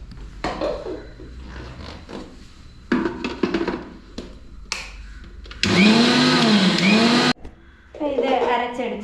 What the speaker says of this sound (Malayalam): ലേശം വെള്ളം ഒഴിച്ചൊന്ന് അടിച്ചെടുക്കാം.